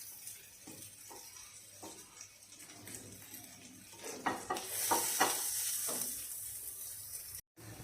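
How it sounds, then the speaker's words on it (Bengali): Sliced onions fry in oil in a pan while being stirred: soft crackling and scraping strokes, rising into a louder, sustained sizzle about halfway through, with a brief dropout near the end. "পেঁয়াজগুলো আরও 3 মিনিটের মতো ভেজে নিতে হবে"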